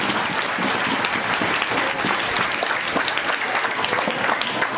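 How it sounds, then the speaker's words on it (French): Dense, loud applause from a crowd at a school results proclamation ceremony during a silver jubilee celebration in Mwene Ditu; sustained, close clapping fills the whole stretch, with faint voices underneath. "Est-ce qu'on peut quand même applaudir?"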